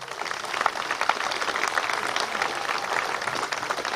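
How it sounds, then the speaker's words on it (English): Steady crowd applause fills a Republican rally at a state fair, dense and sustained throughout with scattered cheers, fairly close and loud. "Give him another round of applause."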